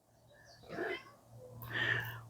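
A cat on a farm meows twice, two drawn-out calls close by, separated by a short pause, over a faint low background hum.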